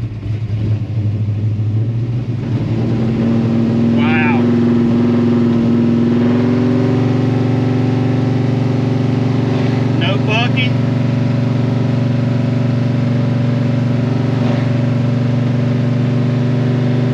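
A car engine fitted with twin Edelbrock VRS-4150 carburetors on a tunnel ram intake drones steadily under load in high gear, a loud constant rumbling hum with a rising tone partway through.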